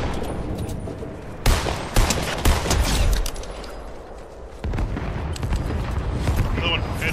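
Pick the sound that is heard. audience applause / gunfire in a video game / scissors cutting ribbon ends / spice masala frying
gunfire in a video game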